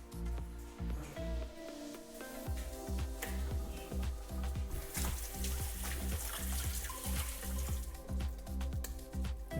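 A kitchen tap runs for hand-wetting while burger patties are being shaped, making a continuous close trickle and splash with rhythmic, pulsing water noise throughout.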